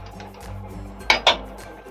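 A metal lid lifted off a cooking pot of simmering mango, okra and pumpkin, with two quick clinks close by after a soft rustle.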